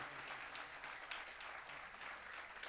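Audience applause for a folk artist performer at a Gujarati literary storytelling gathering, a steady, dense wash of many hands clapping throughout, fairly faint and distant.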